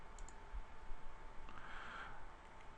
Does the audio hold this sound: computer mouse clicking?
yes